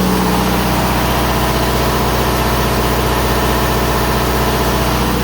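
An Onan generator engine drones loudly at idle, a constant rumbling hum with no change in pace and no talking.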